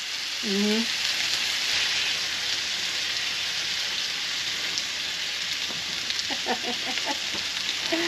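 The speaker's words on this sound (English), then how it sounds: "I love that sizzle." Lamb sizzles loudly and steadily in a hot pan, a constant crackling hiss, with a brief voice near the start and a few clucking sounds later.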